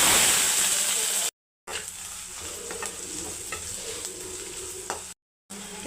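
Sliced onions fry in a pan for a bitter gourd palya, giving a steady crackling sizzle with occasional spoon scrapes and brief clinks, cut by two short silent gaps.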